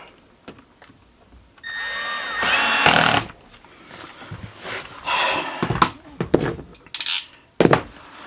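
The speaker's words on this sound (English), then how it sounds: "if you're using an electric drill for this, because you do not want to strip these out" An electric drill removes screws from the plastic panel of a Whirlpool dishwasher in several short, close whirring bursts. Clattering handling noises and metallic clinks come between the bursts.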